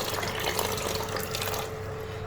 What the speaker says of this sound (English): We will continue to rinse it until this cloudy water finishes.